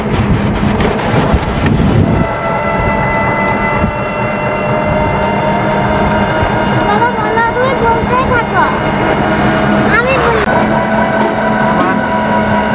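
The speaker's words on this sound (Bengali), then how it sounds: "অনেক বাতাস করতেছে, বাতাসটা ঠান্ডা। ঠান্ডা বাতাস করতেছে।" Strong cold wind gusting along a highway in rural Bangladesh, a steady loud roar buffeting the microphone throughout, with traffic rumble and faint voices mixed underneath.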